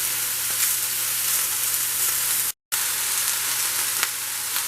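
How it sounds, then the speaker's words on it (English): Loud, continuous sizzle of bell peppers frying in a pan, broken by a brief moment of silence midway, then resuming just as strong. "You want to hear that strong sizzle."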